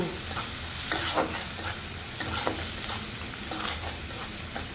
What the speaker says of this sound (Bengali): এভাবে করে সবগুলো মশলা কষিয়ে নেব